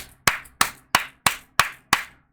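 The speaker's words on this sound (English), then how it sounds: "Let's give her a round of applause" Six evenly spaced, crisp claps from a single person, each a sharp close slap with a short decay and quiet between them.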